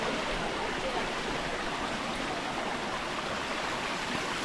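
Cold, clear mountain spring water streaming from a natural source high in the hills of Mahad, Raigad, makes a steady, even rush of flowing water that stays unbroken throughout, with no voices.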